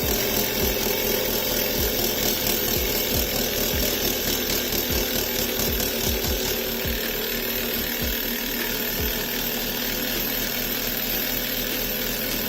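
A two-cylinder Stirling engine toy runs fast, giving a steady mechanical whir with a regular series of rapid knocks and ticks throughout, close and fairly loud, with no voices.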